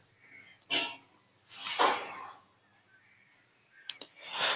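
A computer mouse clicks while selecting the first option on a Uttar Pradesh land-records website; a few short, crisp clicks come close up with quiet gaps, and no one speaks.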